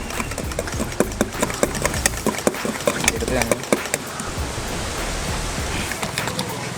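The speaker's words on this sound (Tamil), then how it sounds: "ஸோ இன்னும் கண்டினியூஸாக மிக்ஸ் பண்ணிகிட்டே இருக்கலாம்." Thickened dalgona coffee cream is beaten by hand with quick, regular strokes for about four seconds, then the strokes give way to steady background noise.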